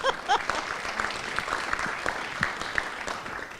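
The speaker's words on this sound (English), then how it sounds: "Now you can applaud." An audience at a college talk breaks into applause, a steady wash of clapping lasting a few seconds at moderate level.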